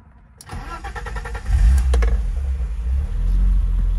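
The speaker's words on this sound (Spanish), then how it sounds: "Voy ahora a encender el coche para que oigáis el motor." A BMW E30 325i engine cranking and catching, then settling into a loud, close, rumbling idle with no talking.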